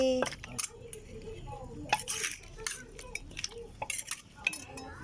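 Clinking and knocking of utensils as som tam papaya salad with lime is pounded and tossed in a mortar, a run of irregular close taps and scrapes under a voice talking over it.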